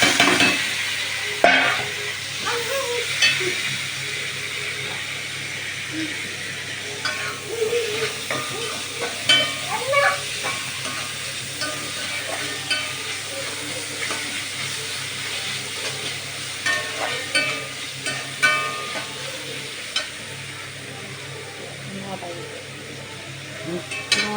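Onion and tomato fry in a pan for a prawn roast. A soft, steady sizzle runs throughout, broken by repeated scraping and stirring clicks of a spatula, with a voice speaking intermittently over it.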